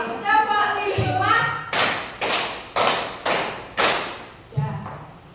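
A group, apparently a class, claps a quick five-beat pattern in unison: five sharp, evenly spaced loud claps after a stretch of talk. More talk resumes right afterward.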